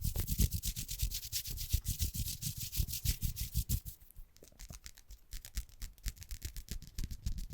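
Fingers scratch and rub fabric over a microphone in fast, rhythmic strokes, very close and loud, then shift to a softer, sparser scratching pattern for ASMR.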